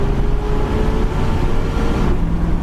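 A 1979 Camaro with a basic small block V8 revs up under acceleration, then its engine note drops as the automatic transmission shifts into second, heard from inside the car as a loud, continuous roar.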